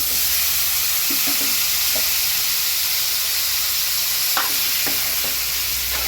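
Chopped tomato pieces fry in a little oil with a loud, constant sizzling hiss, broken by a few soft stirring scrapes and knocks close by, with no talking.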